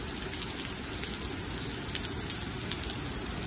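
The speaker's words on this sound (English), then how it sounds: "after this rain, it will be a steady, normal rain" Rain falls steadily during a heavy thunderstorm in Lubbock, Texas, a constant dense hiss of drops on surfaces, close and even throughout, with no voices.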